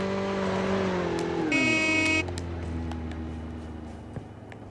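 An in-game car engine in Call of Duty Mobile drones steadily up close, its tone sliding down as it slows, with a brief horn-like tone partway through and a small knock near the end.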